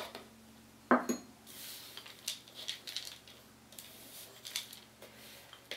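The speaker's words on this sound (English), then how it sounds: "I'm going to dump in my almonds." Almonds tipped into a baking pan with a sharp clatter, then softer rustling and scattered clicks as they are mixed by hand in the pan, close and moderately quiet.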